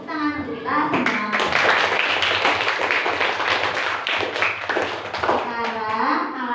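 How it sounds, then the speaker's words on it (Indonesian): A class of schoolchildren clapping their hands together in rapid, dense applause for several seconds, with children's voices chattering and calling over the claps. "Tepuk tangan untuk kita semua."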